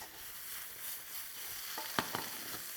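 Shrimp and peppers frying in a hot pan make a soft, steady sizzle, with a few sharp clacks and scrapes as the food is stirred.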